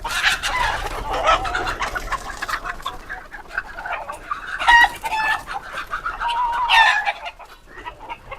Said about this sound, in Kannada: ಕೋಳಿ ಬರ್ತಾ ಇದೆ